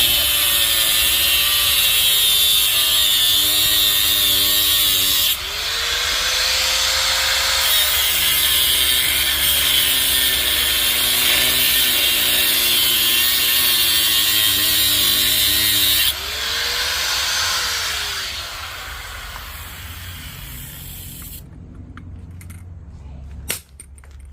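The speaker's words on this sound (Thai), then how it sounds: "อันนี้ก็ใช้ลูกหมูตัดเลยนะคะ" An angle grinder cuts through scrap metal to separate brass from steel for recycling. It gives a loud, close, continuous whine whose pitch swoops and drops as the disc bites in, pausing briefly between cuts before rattling clanks at the end.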